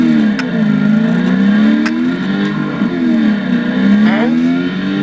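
Ford Shelby Mustang GT500 engine revving loudly and close, its deep note swelling and dipping in repeated waves with no speech.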